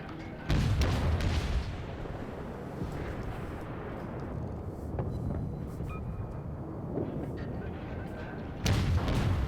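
Heavy naval guns firing in the World of Warships video game, loud booming salvos at the start and end with rumbling battle noise between.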